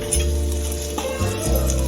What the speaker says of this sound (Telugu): రెడ్ అయ్యే వరకు వెల్లుల్లి రెబ్బలు మనం కలుపుకోవాలా